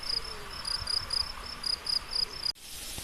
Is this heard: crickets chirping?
yes